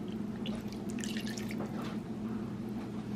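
Soy sauce pours in a thin, trickling stream over chicken pieces in a pan. The liquid splashes softly and close against a steady background hum.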